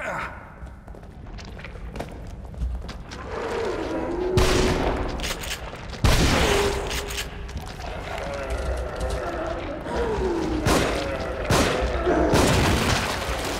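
Gunfire in the horror video game The Evil Within, several sharp loud shots and impacts at about 4.5, 6 and 11 seconds amid game ambience, with someone talking over it.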